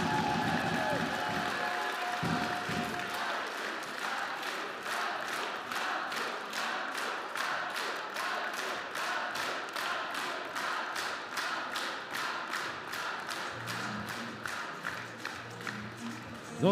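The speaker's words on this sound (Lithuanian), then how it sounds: "Ir dar kartą jūsų plojimai Klaipėdos Neptūnas" Basketball arena crowd clapping in a steady rhythmic beat for the Klaipėda Neptūnas women's team at a Queen's Cup final, sustained and even, with faint announcer talk early on.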